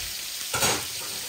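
Pieces of tilapia fish hit hot oil in a pan, a sudden hiss swelling into a brief, close sizzle over a steady background crackle.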